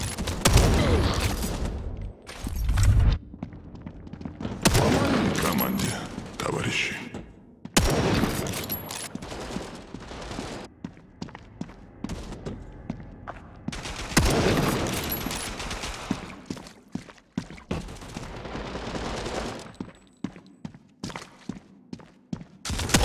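Bursts of heavy gunfire in a World War Heroes video game erupt in several loud volleys separated by brief pauses, with scattered shots and clattering between them.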